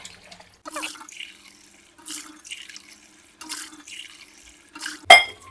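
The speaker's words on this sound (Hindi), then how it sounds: "अब इसमें जाएंगे 4 गिलास पानी के।" Water being poured from a glass onto tamarind in a pot for chutney, in several separate short splashing pours with pauses between them, close up in a home kitchen, with a sharp clink near the end.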